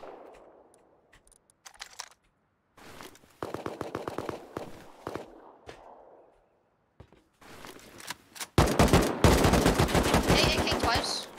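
Bursts of AK rifle fire in the survival game Rust, with rapid crackling volleys at mid distance followed by a louder, sustained stream of close automatic shots.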